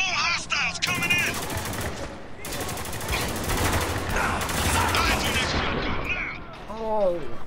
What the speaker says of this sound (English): that shotgun did a lot of damage very quickly